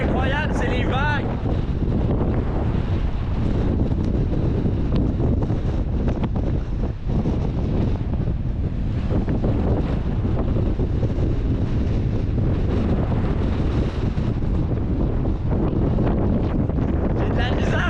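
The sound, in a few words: strong wind blowing on the coast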